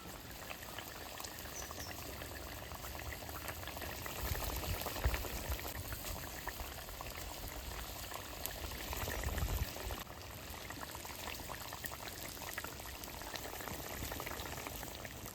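A pot of magur catfish curry bubbles and simmers continuously, a soft, even churning boil heard close by and alone.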